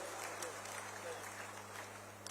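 Dense clapping from a large crowd at a Chief Minister's public event in Nimbahera, Chittorgarh, India, fills the space over a low electrical hum, steady and sustained from start to finish.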